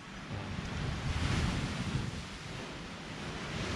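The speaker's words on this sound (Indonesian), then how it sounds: "Ombak dia kadang-kadang dia besar lah" Steady roar of surf breaking nearby, a broad rushing wash that swells and eases slightly, with wind buffeting the microphone throughout.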